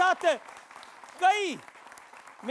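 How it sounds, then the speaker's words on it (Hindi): Applause rises beneath a loud voice, with a steady wash of clapping behind the speaking and no clear pause between them. "जोरदार तालियां आपके लिए"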